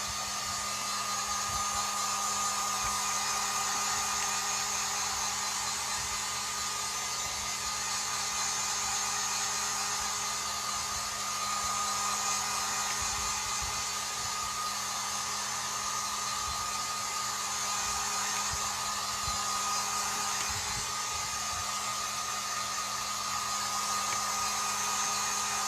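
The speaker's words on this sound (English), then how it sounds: "So I'm just using my heat gun. I'm using the lower setting" A heat gun on its low setting blows over a craft pumpkin, giving a steady, even airy whoosh that runs unbroken throughout at moderate level.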